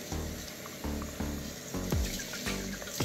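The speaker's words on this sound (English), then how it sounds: "I'm gonna filter off this water" Water is poured off through a filter in quiet, uneven gushes and trickles, faint and close, with no speech.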